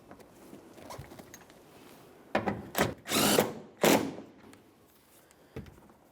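A power tool drives 10mm head bolts into a 2003–2007 Honda Accord rear bumper cover in three or four short, close whirring bursts separated by quiet pauses.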